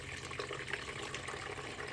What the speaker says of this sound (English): I just slowly go ahead and pour the kefir in